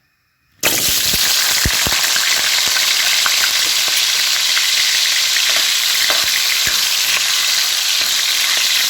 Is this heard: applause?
no